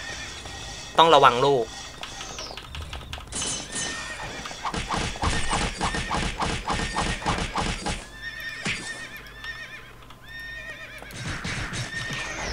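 A black horse in the Ragnarok Online game lets out a loud, wavering whinny early on, followed by a long run of rapid clip-clopping hoofbeats alongside game sound effects, with a voice speaking briefly over it.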